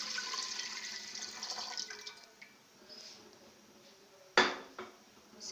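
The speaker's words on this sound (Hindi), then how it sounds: "एक देगचे में आप पहले यखनी ऐड कर दें" Stock poured into a cooking pot, a soft continuous liquid splash and trickle that fades, followed by a sharp metallic clank of the pot and lighter utensil clinks, fairly faint and close.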